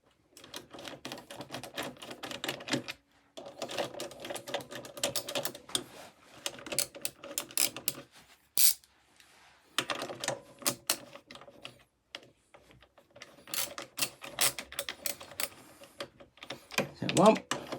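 A socket ratchet tightens a part on a lawn mower that won't start, producing bursts of rapid, close metallic clicking separated by short pauses and quiet gaps.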